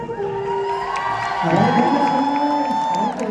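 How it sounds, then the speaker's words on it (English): Crowd cheering and whooping at a live stage event, a short burst of voices rising and swelling for a few seconds, with some high shouts standing out. "That is the most feeble cheer I have ever heard in my life."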